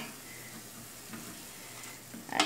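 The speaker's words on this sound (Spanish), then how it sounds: "En este caso voy a hacer frito" Stuffed ripe plantain balls fry in oil with a quiet, steady sizzle, ending in a brief clattering stir near the end.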